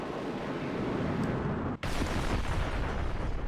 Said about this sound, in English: Big, huge nuclear explosion.